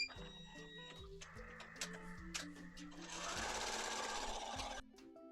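An embroidery machine stitches out a design on a jacket, running with a steady rapid mechanical chatter and periodic thumps, growing louder and denser toward the end, with no talk.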